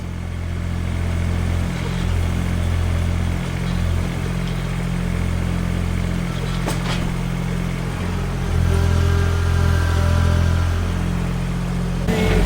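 A John Deere 1023E compact tractor engine works hard while pushing out of a pile, a loud steady mid-pitched drone with clattering and shifts in load, recorded close with no speech.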